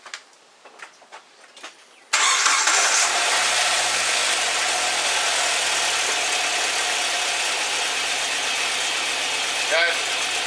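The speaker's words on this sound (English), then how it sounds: "Alright, now you can just start up and back it up." A 2001 Jeep Wrangler TJ engine cranks and catches after a few seconds of quiet clicking. It then settles into a loud, steady close idle, with a voice speaking near the start.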